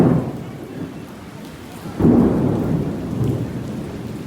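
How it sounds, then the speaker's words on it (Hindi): Thunder rumbles and cracks loudly through steady heavy rain pouring down outdoors, with a sharper boom rising about halfway in and the downpour continuing beneath it. "बहुत सख्त आवाज़ आती है भाई बिजली कड़कने की।"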